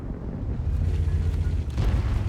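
An artillery shell explodes in a tank video game, a deep, heavy boom rumbling throughout with a second surge near the end.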